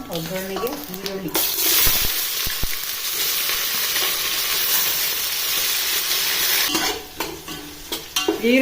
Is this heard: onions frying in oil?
yes